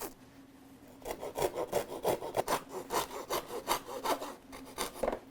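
Hand saw cutting through wood for a song stick, steady rhythmic back-and-forth strokes, close and fairly quiet, with no talking.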